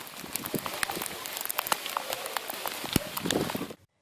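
Rain falling in Pakistan during a spell of rain and snow, a steady dense patter of drops striking surfaces with sharper individual hits, continuous for several seconds before cutting off abruptly.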